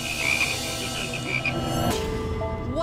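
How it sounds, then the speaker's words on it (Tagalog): Live frogs croak in a steady, continuous chorus close by, with a sharp click partway through and no voices. "meron na ritong dalawang buhay na palaka"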